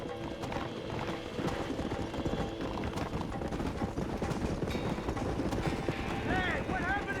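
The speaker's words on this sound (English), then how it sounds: "Get on your horses." Horses clip-clop at a gallop in the Red Dead Redemption video game, a dense, steady hoof rhythm running through the whole stretch under a busy game soundscape with music and effects.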